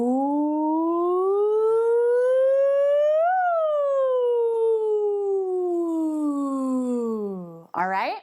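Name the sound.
voice imitating a siren, rising and falling ooh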